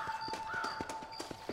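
Horses in the video game Red Dead Redemption, with a quick run of hoof clip-clops and a faint whinny, steady and moderately near.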